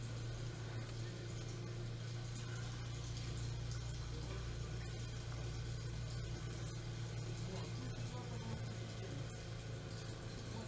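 Liquid fertilizer pumps on a Väderstad Tempo L 24 planter run as a steady, dense whirring drone with a watery rush, continuous and fairly loud throughout, with no speech.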